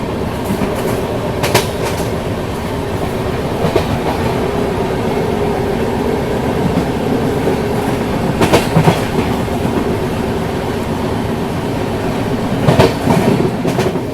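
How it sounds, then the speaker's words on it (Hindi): The Pawan Express passenger train, number 11062, runs steadily along the tracks, heard from onboard as a loud continuous rumble with periodic clickety-clack wheel beats over rail joints. "हम ट्रेन नंबर 11062 में ट्रैवल कर रहे हैं"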